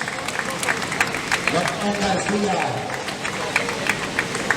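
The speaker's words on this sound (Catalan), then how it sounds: "Ahí aplaudint els corredors que ho han guanyat" Spectators clapping for runners crossing the finish of the Fira de Tots Sants trail race, scattered applause and crowd murmur beneath a loud announcer's voice.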